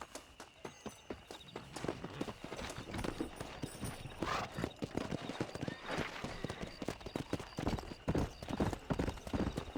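Horse hooves clip-clop in a fast, steady rhythm as a rider travels in the video game Red Dead Redemption 1. The hoofbeats are close and continuous, with a brief whinny.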